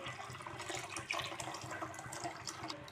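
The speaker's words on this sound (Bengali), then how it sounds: "পরিমাণ মতো পানি দিয়ে দিচ্ছি।" Water splashes fairly quietly into a pan of roast masala spiced with cumin and chili powder, a short continuous pour with small gurgling surges.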